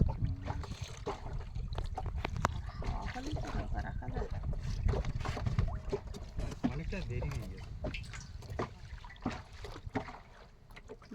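River water in a Sundarbans channel slaps and laps against the side of a small wooden boat in steady, close, uneven splashes, with wind buffeting the microphone and a voice speaking over it.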